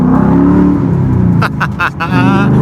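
A Ford Mustang engine revs and accelerates away nearby, with a deep rumble and a brief whoop of voices over it.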